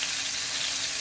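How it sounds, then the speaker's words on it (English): Hamburger frying in a pan, a dense continuous hissing sizzle, steady and close throughout the one-second stretch with no voices over it. "I am going to cook his hamburger a little bit and then cook my steak"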